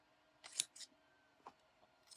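Quilting scissors whose blades had become scored make a few soft, quick snipping clicks, two close together then a pause and another, faint and close in a quiet room.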